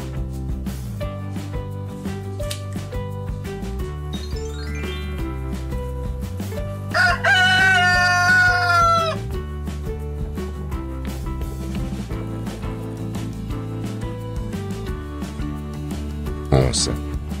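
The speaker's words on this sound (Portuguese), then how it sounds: "Galo." A rooster crows once, loud and drawn out, over continuous background music.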